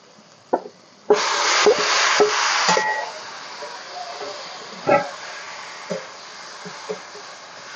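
Marinated chicken dropped into a pan of fried spice paste for a Bengali-style chicken curry, with a loud burst of sizzling that fades to a soft hiss and occasional clinks of the spoon.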